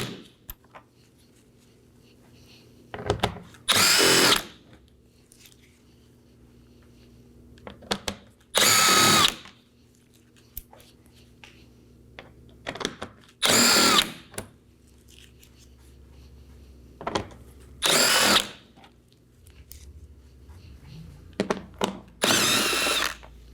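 A power tool spins out 7mm bolts from beneath the front bumper of a 2018-2024 Chevrolet Equinox, sounding as about six short, loud whirring bursts separated by quiet pauses.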